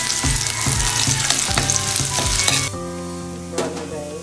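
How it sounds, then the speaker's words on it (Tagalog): Chopped onion and garlic hit hot cooking oil with a loud, bright sizzle and rhythmic scraping stirs, then the frying settles into a softer hiss after a few seconds. "mantika sa mainit. Ilagay natin yung sibuyas at bawang. Sabay mo lang."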